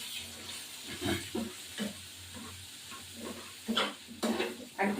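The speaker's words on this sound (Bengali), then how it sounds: "হ্যাঁ, এটা ভাজা ভাজা হবে।" Hilsa fish sizzles in oil in a pan with salt and turmeric, stirred now and then; a soft, steady frying hiss broken by intermittent scraping stirs, quiet and close, with no talk.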